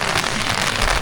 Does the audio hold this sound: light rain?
yes